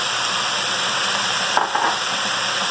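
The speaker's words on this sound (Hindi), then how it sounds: "तो इसको हम बस इतना ही फ्राई करते जाएंगे और अब मसाले भी ऐड करते जाएंगे।" Vegetables frying with salt in a hot pan for spring roll filling, a steady loud sizzling hiss throughout with a couple of brief stirring scrapes near the end.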